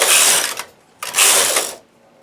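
A knitting machine carriage slides across the needle bed for two rows of a short-rowed hexagon, making two loud, raspy mechanical sweeps, each under a second long, with a short pause between them.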